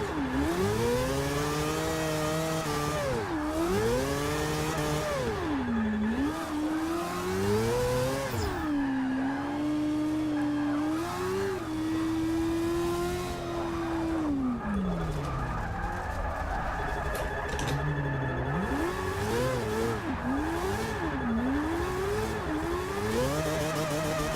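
A Mazda Miata drift build in Forza 6 revving hard while drifting, its engine note swooping up and down continuously with tire squeal mixed in, loud and steady for the whole stretch.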